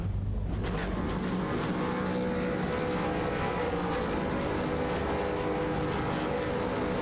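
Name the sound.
V8 race car engines revving before the start, iRacing video game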